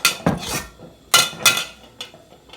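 Several sharp, bright taps against a hard edge, spaced unevenly, like an egg being knocked to crack its shell, close up with no talking.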